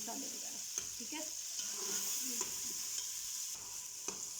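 Two tomatoes cooking in a pan for palak chicken give a soft, steady sizzle with occasional stirring scrapes and light clicks, close by and fairly quiet, with no talk over it.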